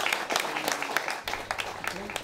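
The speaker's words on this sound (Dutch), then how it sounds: "een groot applaus voor die werkelijkheid." Applause from an audience at a royal decorations ceremony, many hands clapping steadily at moderate distance with a faint voice mixed in underneath.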